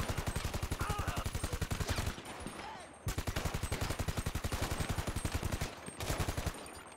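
A new gun in a video game fires in long, rapid automatic bursts with a dense, even rattle of shots. A brief pause follows, then another long burst and a short final one, all loud and close.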